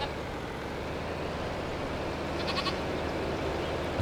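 Sheep bleat a few times in Farming Simulator 25, brief tonal calls over a steady, loud broadband engine-like drone from a farm vehicle.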